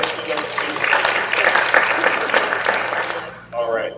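An audience at a school district visioning event gives a soft, sustained golf clap, a dense patter of light hand claps that holds steady for several seconds and then tails off, with a voice coming in near the end.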